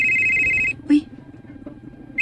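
Phone ringing with an incoming call, a loud electronic ringtone pattern that stops, followed by a brief voice and the ring starting again at the end.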